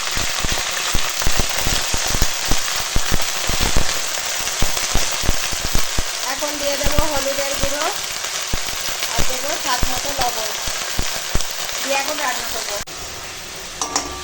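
Chopped pumpkin greens and pumpkin flowers hit hot oil with garlic, green chilli and black cumin, setting off a loud, steady sizzle that settles into a softer crackle and bubbling near the end.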